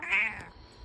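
A cat gives a single short meow up close, loud at first and trailing off into quiet room noise.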